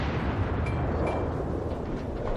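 Front guns of the Myogi battlecruiser fire in World of Warships, a dense, continuous booming roar of naval artillery filling the whole stretch, loud and heavy with no talk over it.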